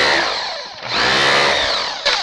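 A bulldog power chisel hammers into stucco on a stud wall, giving a loud, close, rapid rattling roar that briefly dips and then resumes.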